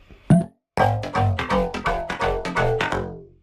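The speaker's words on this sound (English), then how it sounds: "And I'm just adding this distortion to the sound." Parallel Camel Crusher distortion on a synth part, a loud run of gritty, saturated chopped notes in a steady rhythm after a short opening hit and a brief gap.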